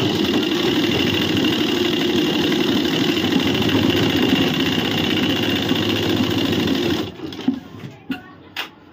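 A sewing machine runs steadily while stitching a ladies' suit, a continuous close whirring hum for several seconds that stops abruptly, followed by a few short clicks and bursts of handling.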